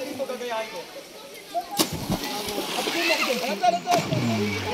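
Children splash while bathing in a cave spring, water churning with sharp splashes throughout, under an echoing mix of chatter and voices.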